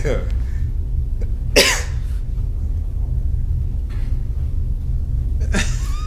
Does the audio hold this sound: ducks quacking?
no